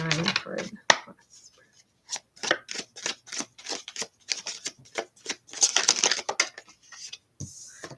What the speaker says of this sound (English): I didn't like that shuffle